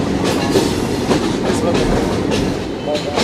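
The Hazara Express rolls along the rails on a loop line into Haripur station in Pakistan, a loud, close, steady rumble with rhythmic clickety-clack of wheels over rail joints throughout.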